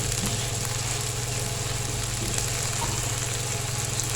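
Spices sizzling as they hit hot oil in a frying pan while cooking a dahi ande egg dish, a steady, close hiss and crackle running evenly throughout with no talking.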